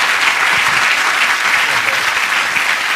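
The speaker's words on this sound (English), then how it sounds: "Let's have a round of applause for them." A studio audience gives loud, dense, sustained applause for Battersea Arts Centre's Beatbox Academy performers, the clapping steady and close for the full stretch.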